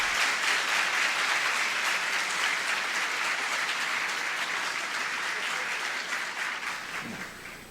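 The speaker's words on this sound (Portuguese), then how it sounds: "Auditório aplaude painelista." A large conference audience applauds a panelist loudly and steadily, the clapping dense and sustained before tapering off slightly at the end.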